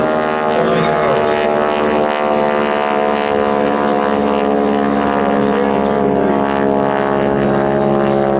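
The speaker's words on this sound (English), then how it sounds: "I think a T6 has a 600 horsepower motor in it, doesn't it, Frank?" A loud, steady T-6 aircraft's 600-horsepower radial engine drones continuously at an air show, a deep rumbling roar with rich throbbing tones that never lets up.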